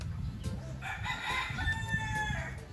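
A fighting rooster at a gamecock market crows one drawn-out cock-a-doodle-doo, close and clear, over low background murmur and faint clucking from other birds.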